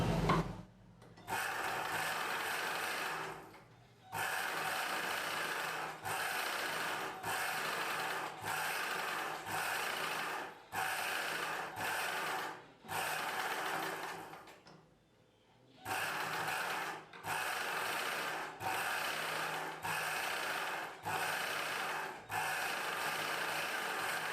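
A sewing machine stitches contrasting-colour piping onto a blouse in short, steady bursts of a second or two, separated by brief pauses, close and alone without talk.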